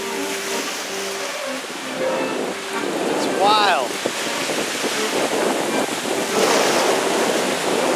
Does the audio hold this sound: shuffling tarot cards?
no